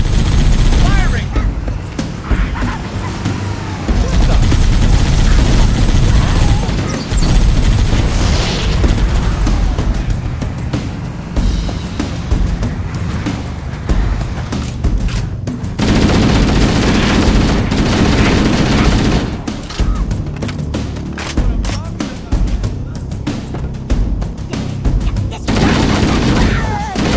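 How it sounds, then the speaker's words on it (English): Heavy gunfire in Halo: Combat Evolved Anniversary, with rapid automatic bursts and booming impacts, loud and close, running over voices talking through much of the battle. "Firing!"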